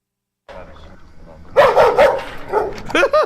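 A dog barks and yelps in excited bursts at a drone, the loud, close barks rising after a quieter growling start, with some whimpering yips near the end.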